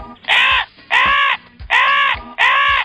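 A crow cawing as a sound effect in a children's story, four loud, harsh caws evenly spaced and close, with no talking over them.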